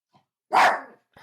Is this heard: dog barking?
yes